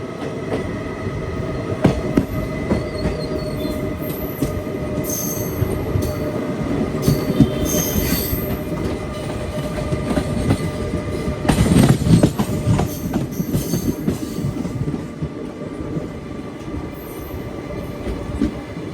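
A passenger express train rumbles steadily along the rails for a long stretch near Yerraguntla Junction, with occasional metallic squeals and clatter swelling midway.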